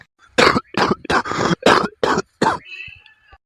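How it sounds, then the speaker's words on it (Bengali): Cartoon father character coughing in a run of about six harsh, closely spaced coughs, loud and near, with a brief trailing wheeze. "বাবার কাশিটা আবার বাড়ছে দিন দিন"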